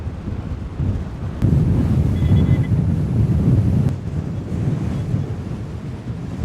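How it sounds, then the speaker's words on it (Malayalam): Strong wind blows across a microphone at a high viewpoint above Kulamavu dam, a loud, continuous rumbling roar that swells in gusts, alone without any talk. "അയ്യോ, നിൽക്കാൻ പോലും പറ്റാത്ത കാറ്റാണ്."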